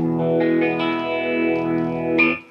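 Electric guitar on the bridge humbucker runs through a Phase Royal phaser pedal at a faster speed, sustained notes swirling with a quick sweep, steady and close for a couple of seconds before fading out.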